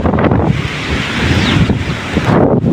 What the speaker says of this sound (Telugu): అది బాగా గాలి వచ్చింది, ఫుల్ గాలి అసలు కొట్టుకోపోతున్నాం అసలు